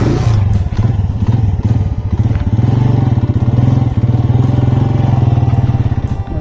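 A motorcycle runs loudly and close, its engine putting out a steady, throbbing rumble with a few clattering knocks and thumps as it starts and pulls away, with no voices over it.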